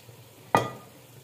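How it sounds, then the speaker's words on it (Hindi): Boiled potatoes drop into a hot pan, one sudden sizzling splash that fades quickly over a quiet background, with no speech. "अब हम इसमें आलू डाल देंगे उबरे हुए।"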